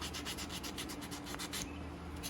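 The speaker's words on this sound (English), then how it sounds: "I won't bore you guys with too much sanding." Rhythmic rasping strokes of sandpaper rubbed back and forth by hand over a wooden slingshot made from a tree fork, close and steady, with a brief pause near the end.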